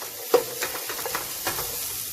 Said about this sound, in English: We want to stir fry that for a couple of minutes.